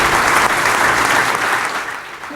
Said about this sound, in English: Huge round of applause for all of you.